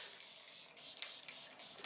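Setting spray misted onto a finished makeup face, several short airy hisses in a quick rhythm, close and fairly quiet, with no talking.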